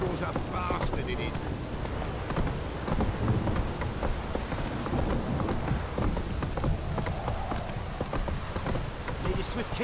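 A heavy downpour hisses constantly in The Witcher 3: Wild Hunt, with low thunder rumbling underneath and a voice speaking briefly over the storm.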